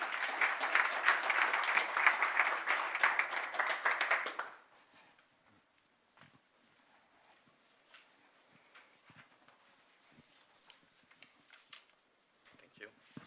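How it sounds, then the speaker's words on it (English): An audience at an aviation leaders' summit in Brussels claps to welcome two panelists to the stage, loud and full for about four seconds, then cutting off to near silence with faint scattered thumps and movement. "So I would like to welcome these two gentlemen to the stage, please. A round of applause."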